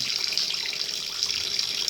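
Hot water runs from a tap in an off-grid home at low pressure, a steady, even hiss of flowing water heard alone for a couple of seconds.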